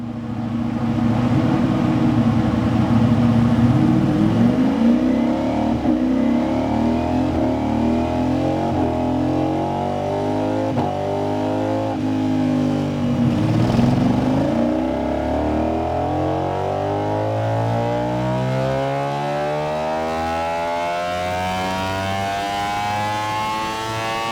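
A Ducati Streetfighter V4 motorcycle engine with an aftermarket exhaust revs loudly and continuously on a dyno, its pitch sweeping up and down in long swells, with a strong steady drone throughout.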